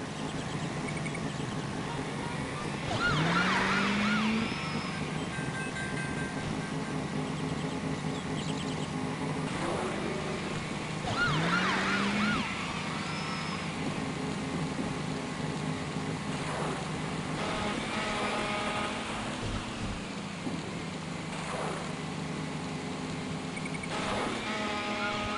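Racing car engines from the 1996 video game Ignition drone and rise in pitch through repeated revving swells, with steady tonal whine and game effects, moderately loud and continuous with no talk.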